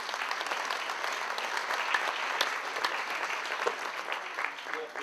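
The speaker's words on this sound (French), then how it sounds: "qu'on peut applaudir très fort et remercier" Applause from a conference audience in Lorgues for Dominique Jongbloed, a talk on climate warming, fills the whole stretch as a dense, steady patter of many hands at moderate level, with no voices over it.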